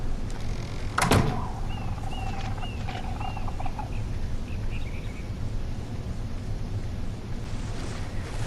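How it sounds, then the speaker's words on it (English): The front door of a raft in the survival game ARK shuts with a single sharp thud near the start, followed by faint bird calls and a low ambient hum. "Make sure our front door is closed."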